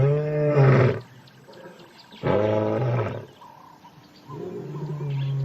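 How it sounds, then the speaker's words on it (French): Male lions roaring in a wild reserve, three long, deep, loud roars separated by short pauses, close by with no talk. "elle les entend rugir pour signaler leur position."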